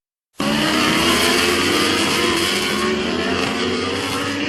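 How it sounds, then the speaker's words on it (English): Motorbike engine bursting in after a short silence and holding a loud, steady buzzing roar, close and continuous with no talking. "Motorbike."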